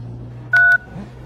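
A telephone keypad tone sounds once during a comedy scene, a single short, steady beep over a low background hum.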